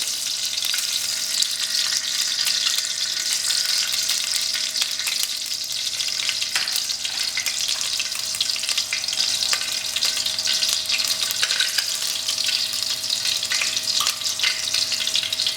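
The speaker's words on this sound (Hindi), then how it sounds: "ड्राई फ्रूट शैलो फ्राई हो रहे हैं, ये लगभग हो चुके हैं" Dry fruits shallow fry in hot ghee in a pan, a loud, dense, continuous sizzle with crackling pops and occasional stirring scrapes, close and steady throughout with no talk.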